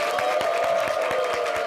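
A television studio audience claps in a quick, even rhythm, each clap a sharp stroke over a steady sustained tone.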